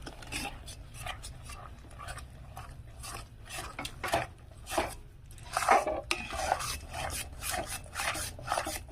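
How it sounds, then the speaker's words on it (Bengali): Rice flour is stirred into salted water for Bengali bhapa pitha batter, making soft, irregular scraping and rubbing strokes with occasional light utensil knocks against the bowl, quiet and close. "এবার এখানে আমি আতপ চালের গুঁড়োটা দেবো আর নাড়বো।"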